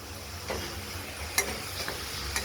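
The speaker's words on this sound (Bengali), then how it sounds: "একটু ভাজা ভাজা করবো" Shrimp frying with turmeric and salt in a pan gives a soft, steady sizzle, broken by a few light taps of a spoon stirring against the pan.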